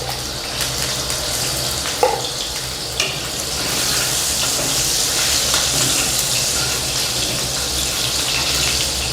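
Potatoes sizzling and frying in a pan while chicken with methi is cooked, a steady broadband crackle lasting throughout at moderate level, with a couple of faint clinks near the start and no talking.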